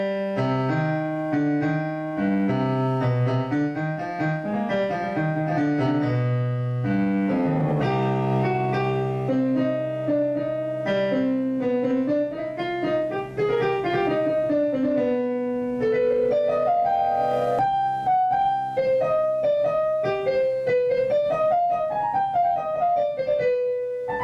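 Piano playing a section of the Shin Gojira theme, with sustained low chords beneath a slow, flowing melody that rises and falls, played alone and close.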